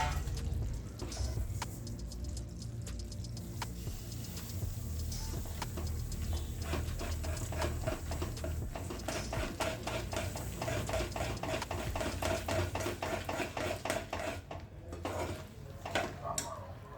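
Peanuts and sesame seeds for til ladoo being mixed together, a steady dense clatter and rustle of stirring with frequent small ticks throughout, fairly close, no talking.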